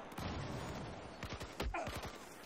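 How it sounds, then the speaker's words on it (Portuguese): Gunfire in the video game Battlefield 4: several sharp shots and bursts ring out over a steady background of battle noise, moderately loud, with a cluster of heavier reports near the middle. "eu tô tomando tiro não sei da onde"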